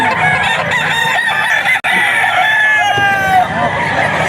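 Game fowl rooster at a busy auction market crowing loudly and close, a long sustained cock-a-doodle-doo over crowd chatter and other birds.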